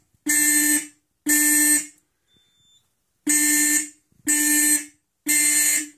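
A piercing Simplex 4004 fire alarm system sounds during a test in loud, even bursts, five blasts with a short gap after the second, no voices present.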